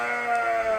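Dorset sheep bleat on a farm in one short, faint, wavering call against steady background noise, with no talking.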